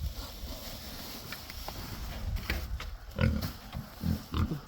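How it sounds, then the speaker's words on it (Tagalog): Pig grunting on a farm, low rough grunts coming in bursts over steady wind and background noise, growing louder toward the end. "Happy na yung baboy."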